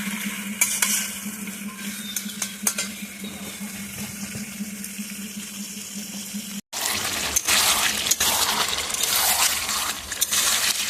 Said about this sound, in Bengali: এখন খুব ভালো করে কষাবো।